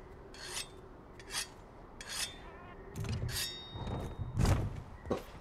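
Weapon being sharpened with a whetstone in Monster Hunter World, a series of rasping scrapes in a steady rhythm, each stroke short and gritty, growing louder and denser toward the end.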